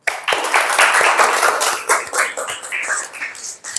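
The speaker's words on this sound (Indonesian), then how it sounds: "Beri aplaus." A classroom group of students applauds in an Indonesian mathematics lesson, a burst of quick, uneven clapping from many hands nearby that thins out toward the end.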